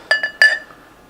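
Bright glassy clinks ring out, two quick taps and then a third, as a bottle of Founders Kentucky Breakfast Stout is opened and handled against a glass. They are close and fade out with no voices.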